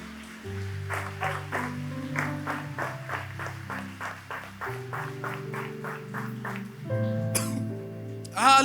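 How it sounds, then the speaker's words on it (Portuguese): At a church youth gathering, a congregation claps in praise, with sharp claps ringing out in a regular beat over sustained keyboard chords, and a brighter swell near the end. "Aplauda o nome de Jesus por essa palavra."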